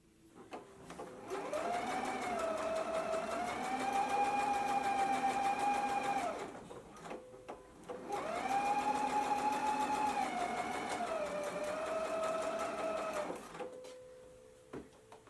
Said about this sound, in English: Now we can go ahead and baste this in place